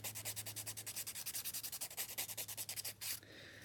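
Acrylic dip powder nails are filed in quick, even back-and-forth strokes, each rasp close and distinct, with a brief pause near the end before the scraping resumes.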